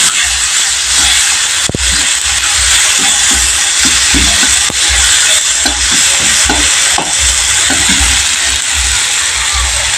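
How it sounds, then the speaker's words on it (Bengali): Loud, continuous sizzling of small fish frying in a hot pan, with scattered clinks and scrapes as the fish is stirred now and then. "ভালো করে নাড়াচাড়া করে সেটা ভাজা ভাজা হলে"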